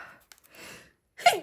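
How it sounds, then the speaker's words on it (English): A single abrupt sneeze from a person suffering hay fever, preceded by faint breaths and shuffling, close to the microphone and loud against near silence. "Excuse me, I'm going to have to sneeze."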